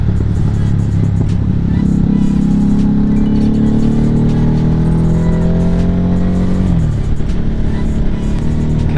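A Harley-Davidson Nightster motorcycle engine climbs in pitch as it accelerates hard and close, then drops sharply on a shift before pulling again, with no voices.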